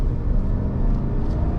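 A 2020 GMC Sierra 1500 SLT pickup accelerates from the driver's seat, its engine a steady, dense low rumble that holds even and close throughout.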